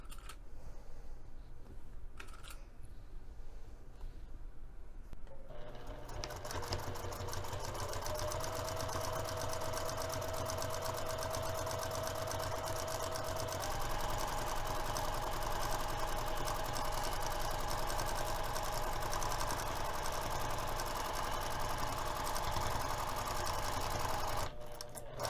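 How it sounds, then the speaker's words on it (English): A sewing machine stitches the bottom edge of a messenger bag with a half-inch seam: after a few quiet seconds of handling, a close, continuous whirring hum runs steadily to the end. "we're going to sew the bottom edge using a 1/2 inch seam allowance"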